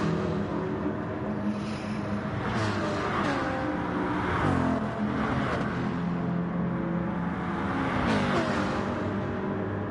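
Porsche and Subaru race cars in a racing video game roar at steady, loud engine pitch, with rising and falling revs and gear changes repeating throughout.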